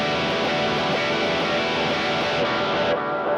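An electric guitar chord strummed with no string muting rings as a dense, washy sustained wall of overtones, loud and steady for about three seconds.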